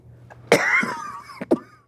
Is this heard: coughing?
yes